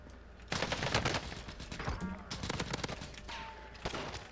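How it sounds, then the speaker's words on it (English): A nail gun fires in a video game: rapid, sharp bursts of shots rattling in quick clusters, loud and near, with brief gaps between volleys and no talk. "I love a nail gun."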